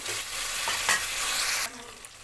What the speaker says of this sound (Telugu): ఇప్పుడైతే ఈ ముక్కలన్నీ ఒకసారి ఇలా కలిసేలా కలుసుకోవాలి